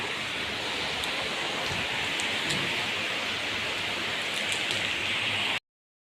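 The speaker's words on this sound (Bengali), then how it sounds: "দেখো, পুরো বৃষ্টি নামিয়েছে এখন।" Heavy rain pours down in a steady, dense hiss close by, then cuts off abruptly near the end.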